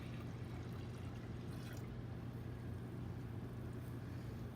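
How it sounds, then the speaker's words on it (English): Sweet tea is poured into a kombucha jar, a soft steady liquid pour over a constant low hum, faint and close with no talking. "so we're just pouring in the sweet tea essentially"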